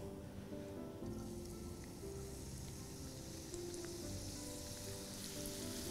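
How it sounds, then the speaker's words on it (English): Chopped onion goes into hot oil in a pan: a soft, even sizzle and crackle that hisses steadily throughout, fairly faint with no talking. "So now the oil is nice and hot. I'm going to add chopped onion."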